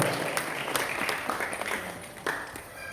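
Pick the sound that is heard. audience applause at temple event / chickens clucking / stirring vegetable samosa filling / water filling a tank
audience applause at temple event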